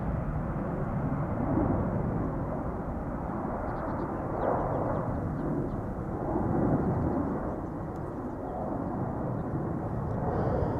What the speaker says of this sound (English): And here's the DHL A300-600